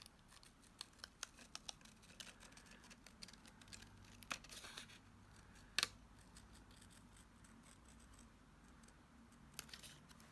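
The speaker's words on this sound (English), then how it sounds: "Me cutting paper." Scissors snip through paper in quiet, scattered clicks and crisp cuts, close by with no talking, while a paper craft is being trimmed.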